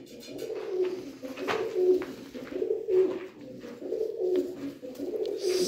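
Rare-breed pigeons of a bloodline kept for sale give steady, repeated low cooing, a rhythmic throaty burble recurring about once a second, close and clear with light background rustle.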